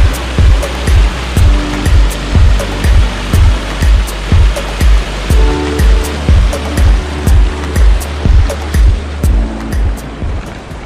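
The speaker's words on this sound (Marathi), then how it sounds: "आणि हे बघा कसं खळखळ वाहते पाणी." Water rushes and gurgles continuously at a natural pool in Lonavla, loud and close, with a steady pulsing rhythm running through the flow and no voices.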